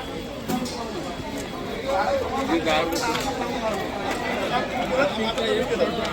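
Dense crowd chatter at a busy village temple fair near the temple steps, many overlapping voices murmuring continuously at moderate distance, with footsteps and scattered clatter in the mix.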